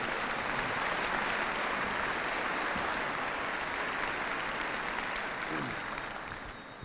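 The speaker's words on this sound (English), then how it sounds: "round of applause to Wing PA for putting that together for us" Sustained applause from an audience at a 2018 Colorado Air National Guard commanders call, a dense steady wash of many hands clapping that tapers slightly toward the end.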